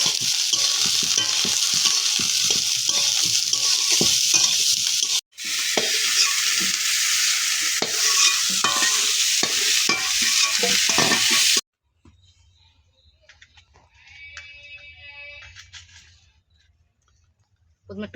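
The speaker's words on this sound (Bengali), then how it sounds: "প্রথমে ফুলকপিটা আমরা ভালো করে ভেজে নেবো।" Cauliflower pieces fry with a little salt in a pan, a dense continuous sizzle broken by scraping stirs, cutting out briefly and then stopping, leaving a quieter stretch of faint kitchen noise.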